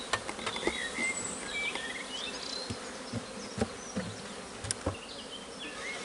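Honey bees buzz steadily around an opened hive during a swarm-prevention inspection, a dense insect hum with brief close fly-bys and small knocks of handling, with no talking.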